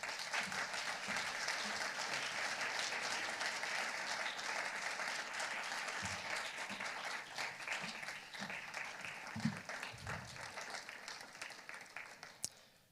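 A banquet audience at an alumni association awards evening applauds steadily for about twelve seconds, a dense wash of clapping that slowly fades, with some faint voices beneath it.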